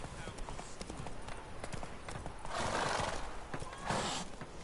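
Roach, Geralt's horse in The Witcher 3: Wild Hunt, gallops with steady hoof clip-clops and lets out loud neighs about three and four seconds in, with game effects and a voice layered in.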